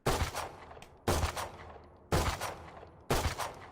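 Four loud close-range bursts of gunfire from a Valorant gun on alternate fire, each a sharp multi-shot blast about one second apart, with a short decaying tail after each.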